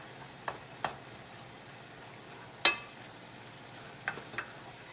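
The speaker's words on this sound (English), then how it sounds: "the beef cooks very, very fast. So you want to keep stirring it" Ground beef frying with spinach and soy sauce in a pan on an old stove, heard as a faint steady sizzle broken by a few sharp clicks and scrapes from stirring.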